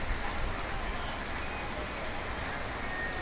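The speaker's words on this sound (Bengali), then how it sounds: "সকাল নয়টার সময় বৃষ্টি হচ্ছে" Rain falls steadily on an empty morning street in Savar, making a continuous, even hiss of drops hitting the ground with no other sounds standing out.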